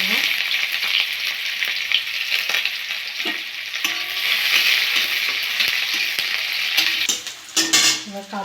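Onions frying in hot mustard oil in a wok, a loud, steady sizzle with frequent spatula scrapes and clinks as they are stirred close by, no speech.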